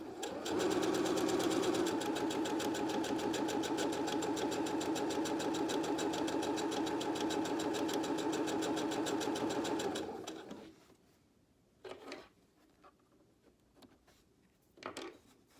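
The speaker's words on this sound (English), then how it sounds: "So I'm just going to back tack just a little bit." A sewing machine stitches and back tacks a Christmas tree napkin, running in a steady, close whirring hum for about ten seconds before stopping, followed by a couple of faint clicks and handling sounds.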